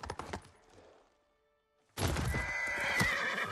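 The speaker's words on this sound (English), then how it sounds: "the impervious horse" Horse neighing loudly and close, a long whinny over clip-clopping hooves, after a brief fainter opening with a short quiet gap before it.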